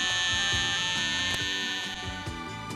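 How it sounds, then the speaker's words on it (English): An alarm clock buzzes loudly and harshly, a continuous buzz that pulses in a steady rhythm, close and alone without talk. "And mine buzzes."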